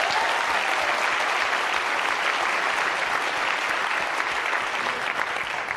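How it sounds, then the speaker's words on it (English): Sustained applause from a large audience honouring the finalists of a university innovation challenge, a dense even clapping wash lasting throughout at moderate distance, with no talk over it. "A huge round of applause for all of our finalists in this track."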